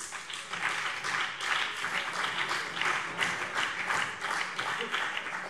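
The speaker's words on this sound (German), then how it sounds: "Applaus" Applause fills a parliamentary plenary session of the state debt committee, a steady patter of many hands clapping at moderate level, with a few faint voices mixed underneath.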